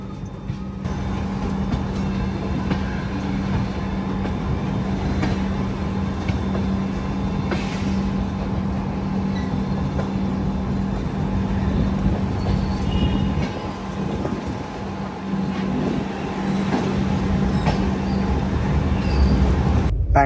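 Steady rumble of a train running on the Visakhapatnam to Varanasi route, heard from inside a carriage with a constant low hum and continuous rolling noise.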